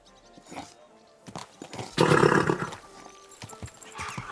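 Horse sounds from the medieval video game Kingdom Come: Deliverance II, with a loud snorting neigh and stamping in the middle between quieter hoof and movement noises, close by.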